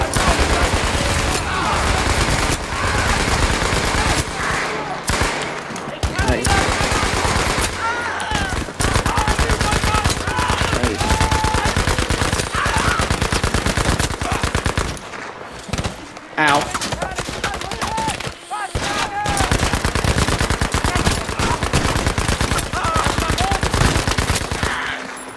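Machine gun fire in Battlefield V rattles almost nonstop in long, loud, rapid bursts, with a few brief pauses between volleys, while voices speak intermittently amid the shooting.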